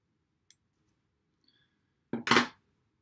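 A soft click near the start, then a crisp double snip of scissors cutting thread while tying a damsel fly fishing fly, close and isolated in an otherwise quiet room.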